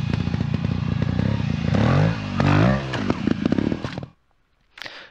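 Dirt motorcycle revving hard as its rear tire bites and claws over a log, engine rising and falling with clattering scrapes and thumps, close and loud, then cutting off abruptly before a brief scuffing noise.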